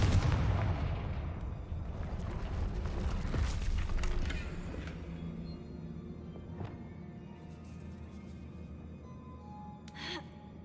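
A Confringo blasting spell in a wizarding video game erupts in a deep, rumbling explosion, followed by a decaying crumble of debris and a faint sparkling effect near the end.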